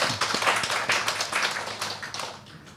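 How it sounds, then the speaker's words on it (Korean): Warm clapping from a church congregation welcoming newcomers during a Sunday service, moderately loud and fairly close, with a steady patter of hands that gradually fades. "뜨거운 박수로 환영하겠습니다."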